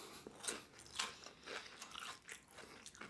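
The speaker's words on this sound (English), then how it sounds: "I wish I had headphones on so I can hear the crunching sounds." Crunching bites into onion rings during an eating show, loud and close, with a few crisp bites roughly half a second apart and softer chewing in between.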